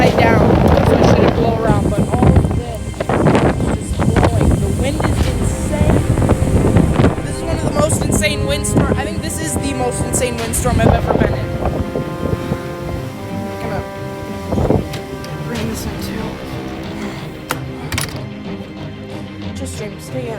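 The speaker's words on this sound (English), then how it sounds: "all of this is blowing. The wind is insane." A violent storm wind roars steadily across the microphone, buffeting and rumbling without pause, with tonal whistling and voices faintly audible beneath the gusts.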